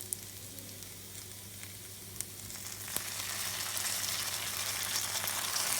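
Bok choy and spinach sizzle in a hot pan as sauce is added, a close crackling hiss with a few sharp pops that grows louder and fuller partway through.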